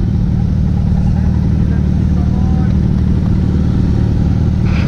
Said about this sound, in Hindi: बाइक जो है पत्थरों में अटक गया है